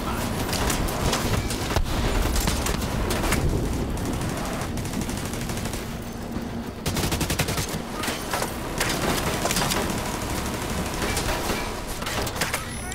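Sustained automatic gunfire from a turret in The Division 2, loud and dense bursts rattling almost continuously for the whole stretch with a brief lull midway, a voice briefly audible underneath.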